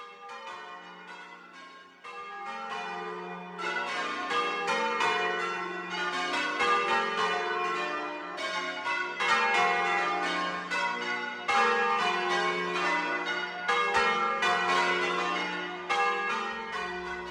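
Church bells peal from a Somerset tower in dense overlapping strokes, the ringing loud and continuous throughout, with no voices.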